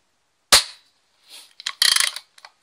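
An IZh-40 air pistol fires with a sharp, close crack, followed by quieter mechanical clicks and a dense burst of rattling noise. The setting is quiet apart from the pistol.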